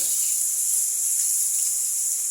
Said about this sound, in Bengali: এখানে মাছ ভাজা হচ্ছে।